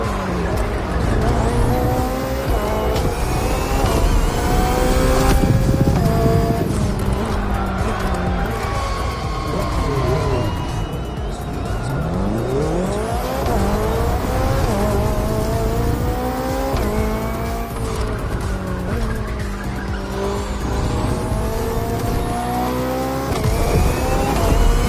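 A BMW hybrid V8 race car at full racing pace, engine roaring and revving through gear changes with rising and falling pitch sweeps, tires squealing at times, loud and continuous throughout.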